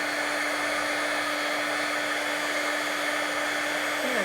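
A heat tool melts embossing powder on a card. Its fan gives a steady, close whoosh of air with a faint electric whine under it, alone and unbroken for a few seconds.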